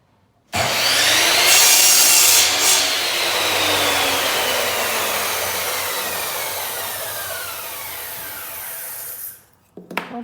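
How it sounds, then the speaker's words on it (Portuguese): Saw cutting through timber for a block-laying jig, a loud continuous rasping cut lasting about nine seconds after a sharp start, ending abruptly with a few small knocks. "Então no caso aqui eu vou cortar na serra que está aqui atrás."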